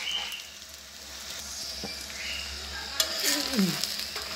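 A mooli aloo paratha cooks on a griddle with no oil or ghee, giving a steady, close, soft sizzle that runs throughout. A faint voice and a light scrape are heard near the end.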